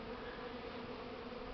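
Honey bees at a hive around a newly introduced Carniolan queen make a continuous close buzzing hum, steady and unbroken throughout with no voices.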